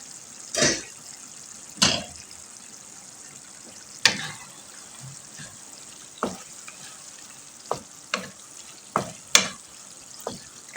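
Minced meat qeema cooks in a pot with a low, steady sizzle, broken by sharp, irregular clanks of a spoon stirring against the metal.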